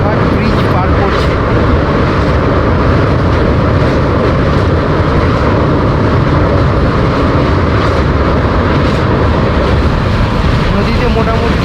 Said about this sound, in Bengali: ট্রেন এখন কোলাঘাট ব্রিজ পার করছে।